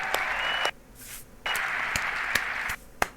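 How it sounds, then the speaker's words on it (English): Bursts of applause fill the room at the Adobe MAX 2022 conference, coming in two sustained waves broken by a short quiet gap, with a few sharp individual claps standing out. "Let's give them a round of applause"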